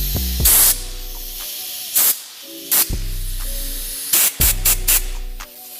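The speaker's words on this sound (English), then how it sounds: "Got a perfect circle of air coming right off the top now. You can probably see it spray there." Several sharp bursts of hissing air spray out in short blasts from a mini go-kart project, some clustered quickly together, loud and close over a background of low mechanical hum.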